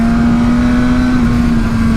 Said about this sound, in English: Love the sound of the rev limiter.